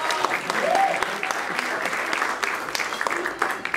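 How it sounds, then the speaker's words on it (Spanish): Roast audience breaks into applause for Germán Haynes, a loud, dense wash of clapping throughout with faint voices and cheers mixed in. "Un aplauso para Germán Haynes, por favor"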